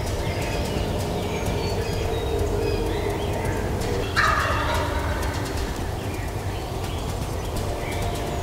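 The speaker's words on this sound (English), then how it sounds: "everything that flew over this bird was gobbling." A wild turkey in South Carolina gobbles in a rattling burst partway through, moderately distant over a constant low background rumble, with no talking.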